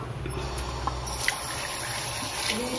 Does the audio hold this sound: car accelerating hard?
no